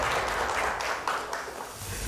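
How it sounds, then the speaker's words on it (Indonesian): A studio audience at an Indonesian political talk show applauds steadily, a dense, even wash of many hands clapping that holds at the same loudness throughout without any voices over it. "Tepuk tangannya boleh lebih meriah lagi?"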